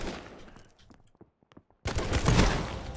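Shotgun fire in the online battle game Surviv.io, a loud burst of blasts at the start, a few faint scattered shots, then another heavy dense volley at the end.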